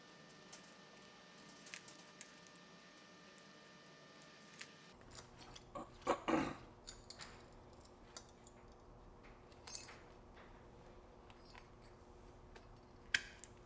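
Cutting a part free during a shifter rebuild on a turbocharged Mazda Miata: quiet, sparse scissor-like snips and small clicks, with one dense cluster of cuts in the middle and a sharp tick near the end, close by and soft.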